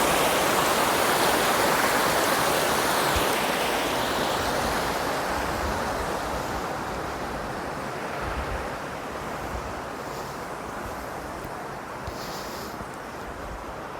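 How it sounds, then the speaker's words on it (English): A continuous loud rush of water pours through Low Locks on the river at Deeping St James, a steady roar close by that eases slightly over time, with no speech. "So that rush of water you heard was the water that runs through Low Locks, between Deep in St James and Market Deeping."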